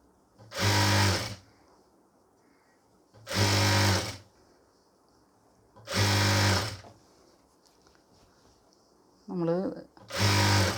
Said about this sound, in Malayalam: എന്നിട്ട് പിന്നെ ഒന്നും കൂടി മടക്കിയിട്ട് ഇതേപോലെ തയ്ച്ചു കൊടുക്കാം